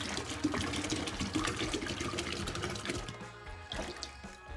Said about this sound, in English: we're gonna put a gallon of water in here